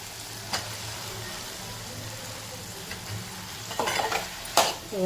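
Potato and brinjal pieces sautéing in a pan, a low steady sizzle with a few clattering stirs and scrapes of a spoon toward the end, close by and without speech.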